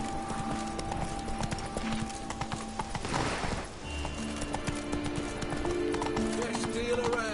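Roach, a horse in The Witcher 3: Wild Hunt, gallops with a steady rapid clip-clop of hooves, close and continuous, joined by a brief whinny and a whooshing rush of motion midway.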